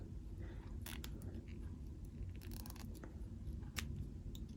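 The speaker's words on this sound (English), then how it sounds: "I'm going to be using my Cricut True Control blade to just shave that off." A Cricut True Control craft blade shaves excess plastic off a pen, making faint, close, brief scraping and clicking strokes in scattered bursts over a quiet background.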